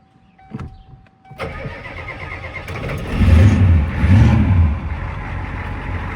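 A full-size pickup truck engine cranks, catches and starts, then settles into a rough running rumble with a couple of throttle blips, loud and close.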